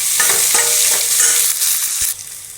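Onions and tomato frying for radish kurma, a loud steady sizzle in the pan with a few stirring scrapes, easing off slightly near the end.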